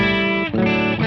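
An electric guitar played through the BOSS ME-90's Natural amp model with a 4x12 cabinet rings out as sustained, harmonically rich notes, with a quick note change in the middle, loud and close with no talk.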